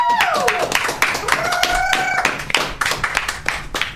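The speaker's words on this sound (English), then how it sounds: "Let's give them a clap out here." Studio guests get a short round of clapping from a small group, distinct sharp claps under and between overlapping voices.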